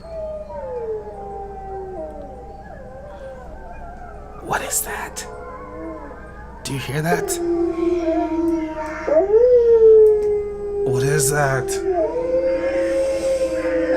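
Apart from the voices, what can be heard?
wolves howling in the video game Animal Jam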